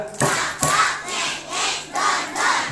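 Young children at a kindergarten Maulid gathering clap in short rhythmic bursts, a few sharp group claps separated by pauses, with chanting voices mixed in.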